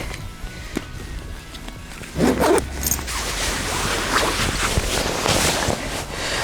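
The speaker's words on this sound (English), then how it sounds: "Just get the camera back in the bag" A camera goes back into a padded K&F Concept camera bag outdoors, with a sharp zipper rasp followed by rustling fabric and handling noise under steady wind buffeting the microphone.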